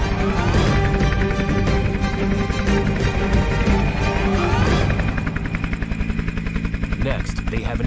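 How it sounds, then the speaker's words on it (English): A military helicopter thrums loudly overhead during Philippine Scout Ranger training, its rotor chop steady throughout and becoming sharper and more pulsing in the latter half, with voices underneath. "helicopter can fly fast and low while the troops disperse"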